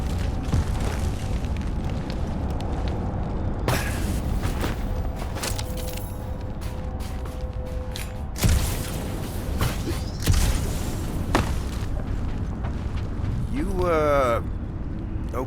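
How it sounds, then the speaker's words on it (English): Earthquake tremors rumble in Marvel's Guardians of the Galaxy, bursting in as several deep booms and rolling rumbles over a continuous low background, with voices talking throughout. "The tremors have intensified."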